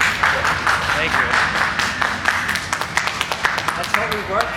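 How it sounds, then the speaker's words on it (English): A sideshow audience applauds after a fire-eating act using gas fuel, a dense, steady wash of clapping that grows into sharper individual claps toward the end, with some voices underneath. "That's what we work for, the applause"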